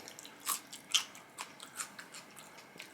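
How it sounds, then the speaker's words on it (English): Homemade crunchy snack bitten and chewed during a taco lasagna meal, a handful of close, sharp crunches spaced irregularly with quiet pauses between. "it gives a little crunching sound."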